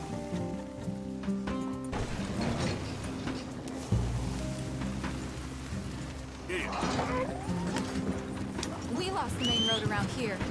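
A horse's hooves clip-clop at a steady riding gait in Red Dead Redemption 2, under game music and ambient rain-like noise.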